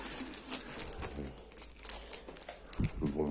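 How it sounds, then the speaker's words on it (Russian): Paper is crinkled and handled close up, making a series of crackly rustles and small crisp snaps, with a voice briefly speaking near the end. "Бумага."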